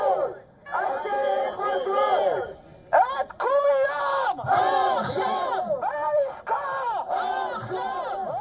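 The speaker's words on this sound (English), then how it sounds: "a huge crowd of demonstrators gathered outside the Caesarea residence of the Israeli Prime Minister Benjamin Netanyahu" Huge crowd of demonstrators outside the Israeli Prime Minister's Caesarea residence, chanting and shouting in rhythmic unison for hostage release, bursts of massed voices rising and falling with short gaps between chants.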